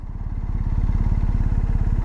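A BMW R1250GS motorcycle engine idles steadily nearby, a smooth, even low pulsing tick-over that stays constant throughout with no other sounds.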